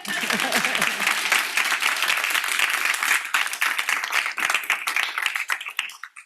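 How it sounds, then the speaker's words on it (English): A lecture audience applauds a guest speaker, a full round of clapping close and steady at first, then tapering to sparse claps and fading out. "Applause."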